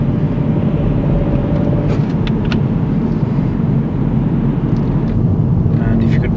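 A learner driver's car gathers speed on a dual carriageway, a loud steady engine and road rumble heard from inside the cabin, with a few faint clicks over the drone.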